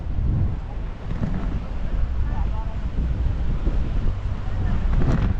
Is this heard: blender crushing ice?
no